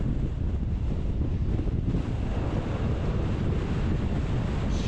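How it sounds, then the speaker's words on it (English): Strong wind blowing outdoors on a hike in Norway, a continuous loud rumbling buffet across the microphone, steady throughout with no talk. "Jesus, this wind."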